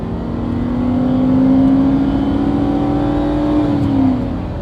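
A 2002 Mercury Cougar engine revs hard while driven, a loud sustained drone that climbs steadily in pitch, holds, then eases off near the end, with no talking over it.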